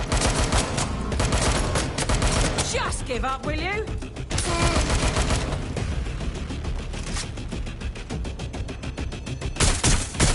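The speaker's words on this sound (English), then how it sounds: "I'm hearing gunfire" Gunfire in the video game Watch Dogs: Legion, rapid bursts of automatic shots and single cracks, loud and close, with game characters shouting over the shooting.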